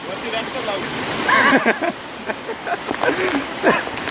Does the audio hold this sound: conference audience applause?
no